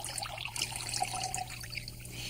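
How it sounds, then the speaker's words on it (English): Buttermilk trickling and splashing as it is poured off freshly churned butter, a steady, close liquid dribble running the whole time, with no voices. "Then you pour out the liquid on the top."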